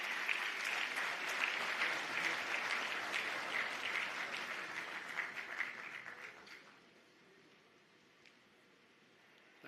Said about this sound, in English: So give a warm round of applause